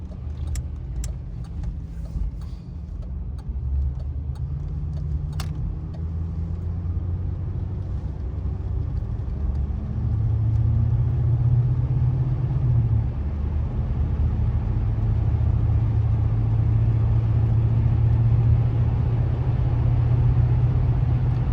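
A 1987 Oldsmobile Cutlass Salon engine hums steadily with a low rumble, rising slightly in intensity as the car picks up speed, with road noise underneath.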